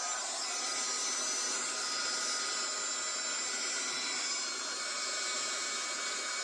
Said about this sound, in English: the heat gun is good and warmed up now